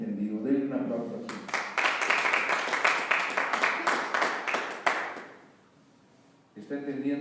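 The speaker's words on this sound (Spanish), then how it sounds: "Denle un aplauso así." A religious gathering breaks into audience applause: a dense burst of many hands clapping for about four seconds, fading out, with someone speaking before and after.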